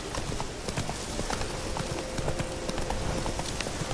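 Horse hooves clip-clop in a steady trotting rhythm in the Witcher 3: Wild Hunt video game, close and continuous over a bed of ambient game sound.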